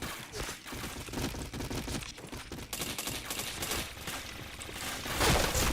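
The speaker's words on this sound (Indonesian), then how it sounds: "Nembak asal-asalan namanya ini." Rapid, sustained gunfire crackles from a shooter video game in continuous dense bursts, loud and near, with no clear pauses between shots.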